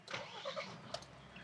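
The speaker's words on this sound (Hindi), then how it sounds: "फिर जब इसको स्टार्ट करते हैं तो थ्री टू वन स्टार्ट" A Mahindra Scorpio Classic S11 2022 diesel engine cranks and catches, a brief churning start settling into a steady low thrumming idle, heard close and fairly quiet.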